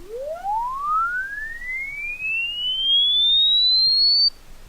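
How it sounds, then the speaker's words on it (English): A pure sine tone generated by an Avid DS time expression glides smoothly upward from low to high pitch over about four seconds, steady and clean, then stops abruptly with nothing else present. "it will make a sound that goes from a low frequency up to a high frequency"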